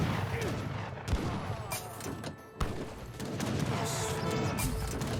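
Artillery and heavy cannon fire in the strategy game Age of Empires 3, with dense, continuous booms and volleys in a steady battle roar. Sharp louder blasts stand out now and then, and a commentator talks over it.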